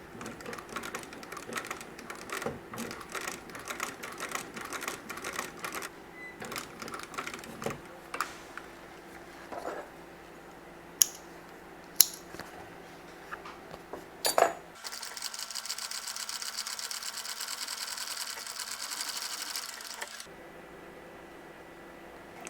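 A sewing machine stitching leather for a shoe upper runs in rapid bursts with clicks and taps, followed by a steadier continuous whirring hum.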